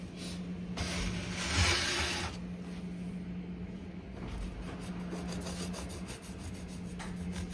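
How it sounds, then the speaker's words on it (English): A knife sawing through a loaf of Jamaican Easter bun gives a steady, close rasping rub, loudest early in the cut and then continuing softly, with no talk. "Let me cut the next slice"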